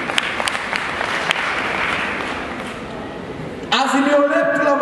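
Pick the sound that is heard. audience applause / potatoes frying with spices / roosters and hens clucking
audience applause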